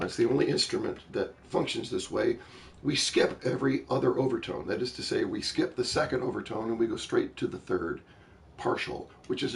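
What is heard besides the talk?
None of the usual background noises is heard.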